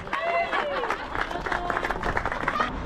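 A crowd of spectators in Greenhead village cheers and claps for passing ultramarathon runners on The Wall race, a steady close-up mix of whoops, applause and chatter lasting throughout.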